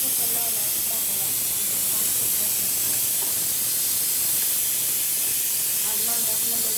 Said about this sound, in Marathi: कुकर लावला टाकायला.